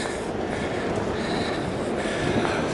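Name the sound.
passenger train at Denver station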